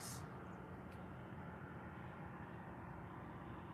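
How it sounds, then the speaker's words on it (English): A small plane flies over a rural property, heard as a steady, fairly faint broadband drone that holds evenly throughout with no talking over it. "There's a plane flying over our property that's been acting really weird."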